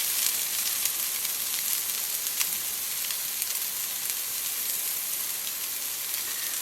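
Lithuanian kotletai, meat patties made with milk-soaked bread and onions, fry in a pan with a dense, even sizzle and hiss. A few faint pops and crackles run through it as they are flipped, with no voices.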